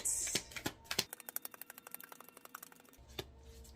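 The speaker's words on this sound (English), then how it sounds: "we'll try to shuffle one more time" Affirmation cards being shuffled by hand: a quick riffle of rapid, crisp flicking clicks running for about two seconds, close and quiet, framed by a few louder taps at the start and end.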